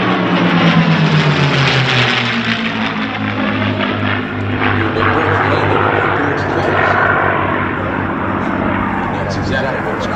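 A P-51 Mustang propeller fighter roars at an air show, a loud, steady engine drone with a slowly shifting pitch as it passes, and a voice speaks over it.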